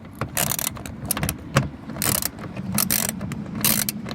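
A socket ratchet tightening the door lock actuator bolts on a Ford Excursion, close, loud rapid clicking bursts in quick repeated strokes with brief pauses between.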